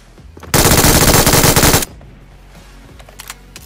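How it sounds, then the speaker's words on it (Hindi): A single loud, rapid burst of automatic machine gun fire in a mobile shooter game lasts just over a second, then cuts off to quieter background game ambience. "अबे तो वो गन मत चलाओ अबे कुछ और चला दो"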